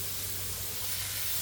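Water steaming and sizzling under a dome over ground pork bacon sliders with melting cheese on a hot cooking surface, a steady, close, even hiss throughout with no talking.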